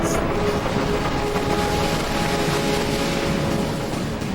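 A video game train rumbles along steadily and continuously with a dense mechanical clatter and faint tonal whine, no voices over it.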